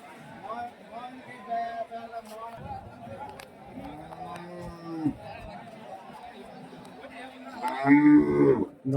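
Cattle at a Friday open market in Krishnagiri district low several times, including a long, clear moo mid-clip and a louder call near the end, amid the chatter of people talking nearby.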